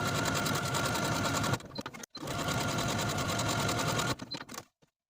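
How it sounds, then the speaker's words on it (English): A sewing machine stitching buttonholes into an elastic waist skirt runs in two steady, whirring bursts with rapid needle rhythm, close and clear, each ending in a brief stop. "Now I'm going to take it to my machine and sew a buttonhole in each of these areas"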